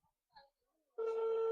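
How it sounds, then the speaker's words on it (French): A telephone rings on an unanswered call, a single steady tone beginning partway in after faint scattered background sounds, loud and close. "Ça sonne toujours, il n'a pas encore décroché."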